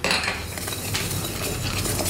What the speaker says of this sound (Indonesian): Sekarang kita mau menggongseng adas wangi dan jinten.